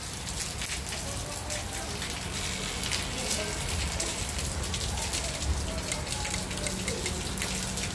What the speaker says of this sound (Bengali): তারপরও বৃষ্টি থামতেছে না